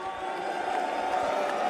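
A large arena audience at The International 2025 Dota 2 tournament cheers and roars, a dense, sustained crowd wash heard loudly throughout.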